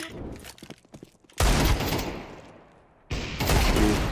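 Gunfire in Counter-Strike 2, rapid bursts of loud, close shots in two dense volleys separated by a quieter gap, with scattered clicks and faint sounds before the first volley.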